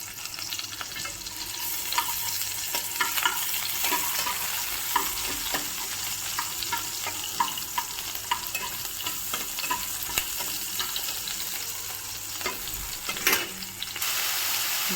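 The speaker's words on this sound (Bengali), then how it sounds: "অল্প করে রসুন যেগুলো ছোটো ছোটো করে কেটে রেখেছিলাম সেগুলো দিয়ে দিচ্ছি।" Chopped garlic, chilli and onion fry in a pan with a loud, continuous sizzle. Frequent clicks and scrapes of stirring come through, and one sharper clatter sounds near the end.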